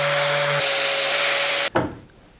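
An angle grinder with a scrub disc works on steel in a loud, steady, harsh whine with a buzzing tone, then cuts off abruptly and spins down over the final second.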